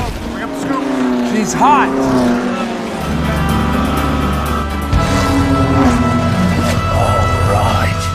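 A race car engine from the film Ford v Ferrari screams near 7,000 RPM at Daytona, high whining engine tones rising and shifting over a rumble, mixed with film music and a brief spoken line.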